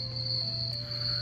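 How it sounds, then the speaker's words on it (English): Steady high-pitched insect trilling, like crickets chirping, continuous and moderately loud over a low hum. "Can you hear the crickets?"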